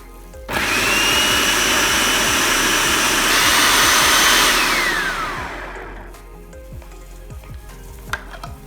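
An electric chopper blending salt, black pepper and vinegar gives a loud steady motor whine for several seconds before spinning down, then quiet small knocks and handling noises.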